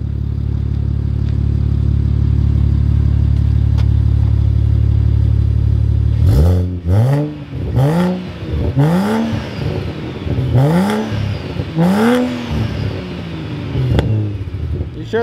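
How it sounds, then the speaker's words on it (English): A BMW N54 fitted with a Speed Tech exhaust idles with a deep drone, then gets revved in six or seven sharp, rising and falling bursts, heard close and loud. "And I think it's one of the best sounding exhausts I've done."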